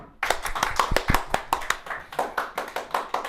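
Short burst of hand clapping from a small group in a chemistry class after a student gives the right answer, distinct rhythmic claps close by, fairly loud and steady across the whole moment.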